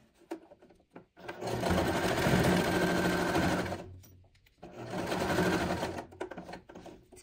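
A sewing machine stitches two pieces of fabric placed face to face for a pocket bookmark, running in two steady bursts of close, loud whirring with a short pause between them and brief quiet handling at either end.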